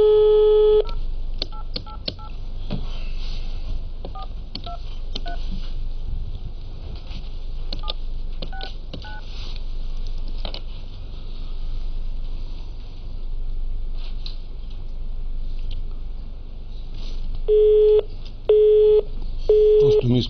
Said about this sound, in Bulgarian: Това беше телефона на господин Станишев